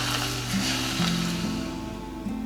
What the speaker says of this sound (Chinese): 在锅中加入食用油，加热至微微冒烟，然后将约30克油浇在葱花上